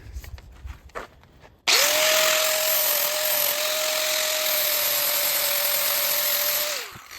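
A 60 grit flap disc grinds the muffler of a Ryobi chainsaw, a loud steady high whine that starts abruptly after a few faint clicks and holds for about five seconds before cutting off, with no talking.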